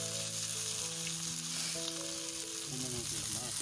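Tandoori chicken that has been marinated for an hour frying in hot oil gives a steady, dense sizzle with faint stirring and a low tonal hum behind it.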